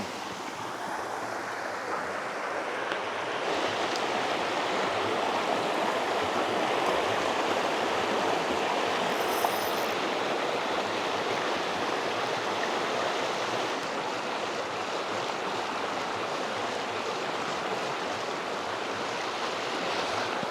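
Water pours steadily over a weir on a small river, a continuous broad rushing wash that holds at an even, moderate level with no pauses and no voices.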